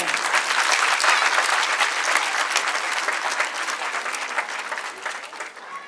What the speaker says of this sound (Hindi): आपकी तालियों की गूंज बताएगी कि आपको the wide house school system बिलालाबाद का